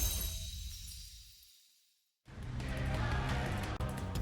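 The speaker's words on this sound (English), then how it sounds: "the crystal shatters" A crystal shatters in the video game NIKKE: a fading hum drops to near silence, then a sudden loud burst of breaking glassy shards rings out and scatters, with a bright clink near the end.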